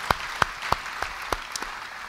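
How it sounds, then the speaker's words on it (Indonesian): A church congregation claps during a sermon, a sparse handful of sharp, evenly spaced claps ringing out over a quiet, reverberant room. "Beri tepuk tangan yang meriah bagi dia"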